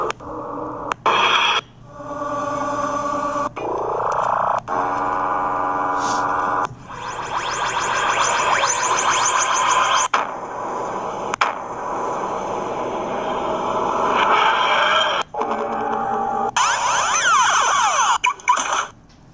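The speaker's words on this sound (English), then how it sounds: "A couple of cool TARDIS sounds." Electronic TARDIS sound effects from a Doctor Who phone app: a run of synthetic beeps, chirps, rising sweeps and warbling tones that switch abruptly from one effect to the next, fairly loud with no talking.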